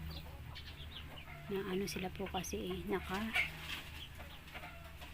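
A mother hen clucks softly with her newly hatched chicks, a run of low clucks and faint peeps under a person's nearby talk.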